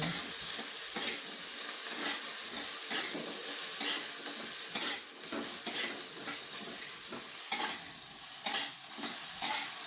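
Soybean curry with tomatoes is sautéed in a pan, giving a steady soft sizzle and frying hiss with repeated scraping stirs of a spoon against the pan.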